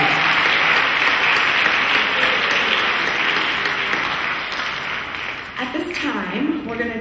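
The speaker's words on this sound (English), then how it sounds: "Please help me give one more round of applause for our school board president" An audience at a school district student leadership symposium gives a sustained round of applause that thins out near the end as a voice begins speaking.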